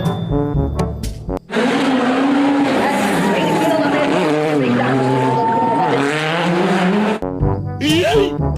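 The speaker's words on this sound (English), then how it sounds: "Racing car." Racing car engine from a children's toy vehicle sequence, a loud continuous engine whine with shifting pitch lasting several seconds, with brief speech and other sounds at the start and end.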